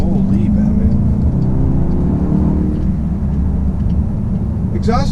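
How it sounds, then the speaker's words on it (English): A 2018 Jaguar E-Pace accelerates with turbo boost, the engine note rising in a smooth whirring sweep over steady road roar, then settling; a voice cuts in at the end. "when that turbo kicks in, it's really good."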